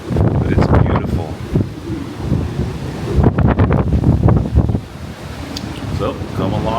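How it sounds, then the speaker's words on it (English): Strong gusting wind buffets the microphone on the deck of a cruise ship on the Mediterranean, roaring in uneven bursts over the wash of waves, with a voice speaking partway through. "It is crazy windy out here right now"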